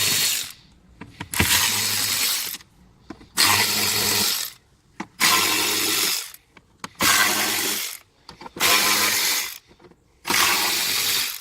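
A power driver with a Torx bit backs out trim screws on a Land Rover Discovery 5, six loud whirring bursts of about a second each, separated by short pauses.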